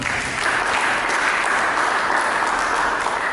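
A church congregation applauds during a sermon, a continuous, even wash of many hands clapping that holds steady throughout at moderate loudness without voices over it.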